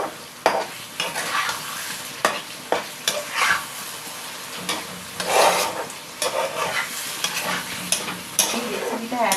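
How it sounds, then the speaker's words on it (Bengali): A utensil stirs a ridge gourd paturi mixture in a pan, scraping and knocking at irregular intervals over a steady background sizzle, close and fairly loud, with no talk. "দিয়ে একটু ভালো করে নেড়ে দেবো।"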